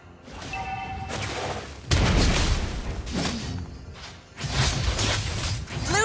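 Base turret being destroyed in a video game, heard as a sequence of loud crashing, bursting and mechanical effects arriving in several bursts, with sharp impacts and rumbling debris.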